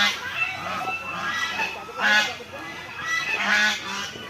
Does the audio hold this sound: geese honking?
yes